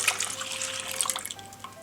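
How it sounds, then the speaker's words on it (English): Milk pours into a pot on a stove with a soft, continuous liquid trickle, close and fairly quiet, lasting under two seconds with no talking. "into a pot on a medium heat, we're going to place in our milk"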